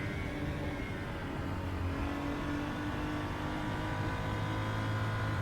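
BMW M235i Racing Cup car at Zandvoort in RaceRoom, held at full throttle: a steady, loud engine drone with layered harmonics that climb slightly in pitch and run unbroken, with no talk.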